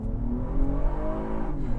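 A 2019 Acura TLX A-Spec with a 3.5 V6 and aftermarket catback exhaust, giving a loud, close, steady rumbling exhaust note with shifting engine tones for under two seconds and no talking.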